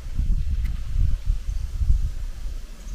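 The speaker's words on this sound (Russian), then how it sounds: "Тут вообще ветер." Wind buffeting an outdoor front microphone during an open-air meal, a steady low rumbling roar with gusty swells throughout and no other clear sounds.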